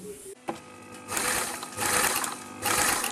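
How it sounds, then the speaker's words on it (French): A sewing machine runs in three steady bursts while stitching a seam down a kimono jacket 1 cm from the edge, its close, busy whirring broken by short pauses between runs. "on va coudre dans le prolongement de ce qu'on vient de faire jusqu'en bas du vêtement, à 1 cm du bord"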